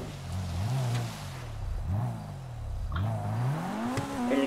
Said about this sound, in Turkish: Elektrikli araba bu.